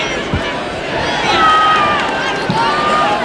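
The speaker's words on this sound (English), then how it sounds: "Few crowds exalt more than Rangers. They love to see a goal from their side." A Rangers home football crowd roars in celebration of a goal during a match against Birmingham, a sustained loud swell of cheering and shouting with commentary-level voices riding over it.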